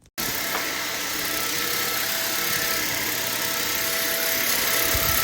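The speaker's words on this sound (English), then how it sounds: "nothing's wrong with my vacuum. I just sucked up a bead a little bit ago." Household vacuum cleaner running steadily with a bright, high-pitched whine and a faint rattle, after sucking up a bead during kitchen baking cleanup; loud and continuous with no talk.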